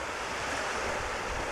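Steady surf washes onto a white sandy beach on Prince Edward Island, a continuous broad rush of waves mixed with wind noise and no voices.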